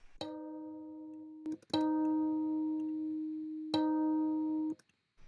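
Plucked notes from a retuned kalimba ring in sequence with sustained piano reference tones layered underneath, the pitches matching cleanly, quiet and close with long decays.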